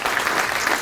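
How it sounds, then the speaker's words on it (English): Audience at an opening lunch event breaking into applause, a short burst of steady, evenly spread clapping from a room full of people. "Give me a round of applause"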